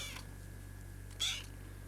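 A small kitten gives a single short, faint meow in a quiet room, a brief high call standing out against a steady low hum.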